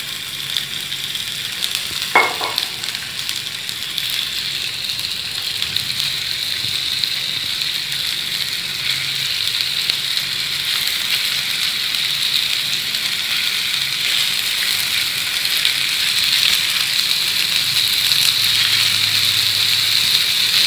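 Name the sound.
beef gola kababs frying on medium heat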